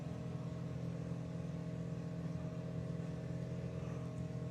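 Drag racing car running down the track at the STP Summer Nationals, a steady loud engine drone with strong low harmonics holding throughout, no voices.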